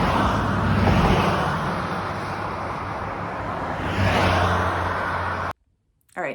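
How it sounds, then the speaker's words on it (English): Steady road traffic rumbles and swells along a long, steeply graded hill on the Pacific Coast, loud and continuous with passing vehicles, before cutting briefly to near silence at the end. "You hear that traffic?"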